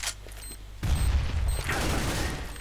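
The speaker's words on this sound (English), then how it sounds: "I'm throwing a grenade." A grenade goes off in CS GO: a faint clicking lead-in, then a sudden loud burst that rumbles on for almost two seconds, close by.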